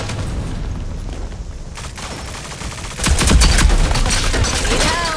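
Heavy gunfire from a big gun in the Rogue Company shooter game, beginning with quieter scattered shots, then a loud rapid burst of fire breaking out partway through and continuing to the end.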